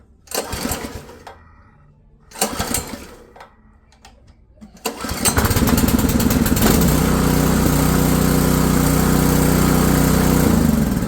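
Westinghouse WPX3400 gas generator pulled with its recoil starter: two or three loud rope pulls with brief sputters, then the engine catches and settles into a steady, close, loud running drone that continues to the end.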